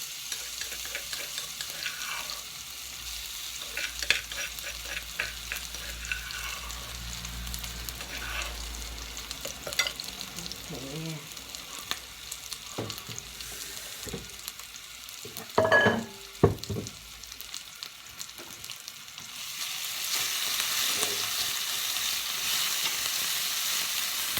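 Steady sizzling and scraping as seafood is stir-fried over high heat in an oiled wok, with intermittent clanks of a spatula against metal and a louder hiss near the end.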